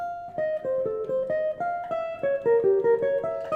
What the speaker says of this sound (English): So now the arpeggio exercise sounds like this.